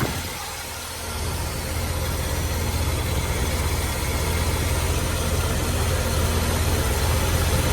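Engine with a freshly rebuilt Carter one-barrel carburetor runs at a steady idle, a continuous low rumble holding even and fairly loud throughout with no talk.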